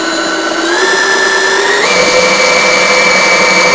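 A DeWalt drill on its high setting of about 1500 RPM spins an alternator under load, a loud, steady whine with rising tones that step up in pitch partway through, continuous and close.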